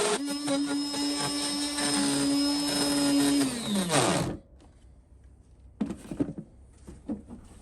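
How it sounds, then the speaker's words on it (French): A vacuum cleaner sucks up dust while a 3D-printed recessed handle is fitted into a drawer front. It gives a loud, steady whining roar for about four seconds, then winds down and cuts off, leaving quieter intermittent clatter. "On aspire."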